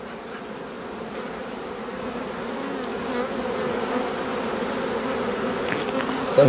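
A colony of black honey bees buzzes steadily at an open hive, a dense, close, continuous hum from a lively, slightly agitated swarm that grows a little louder toward the end, with no talking.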